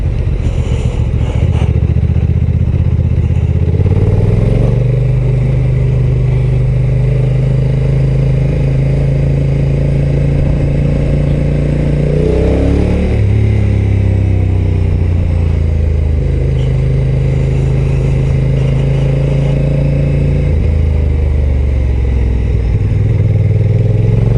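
Honda NT 1100 DCT motorcycle on a ride, loud continuous engine drone with shifting revs, a rise and dip midway as the automatic gearbox changes, wind rush throughout, no voices.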